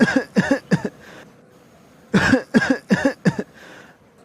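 Two fits of coughing from a character in an animated Bengali drama, each a quick run of four or five loud, close, harsh coughs, separated by a short quiet pause.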